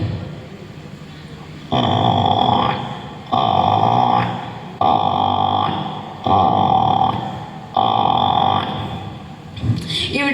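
A human voice imitating a buffalo bellowing, five long deep throaty calls in a steady rhythm, each lasting over a second, loud and close with no other talking.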